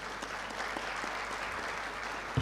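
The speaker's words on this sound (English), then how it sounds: "Can we give them a round of applause?" Steady, fairly soft audience applause for graduates at a Unisa Ethiopia graduation ceremony, a continuous wash of many hands clapping throughout with no pause.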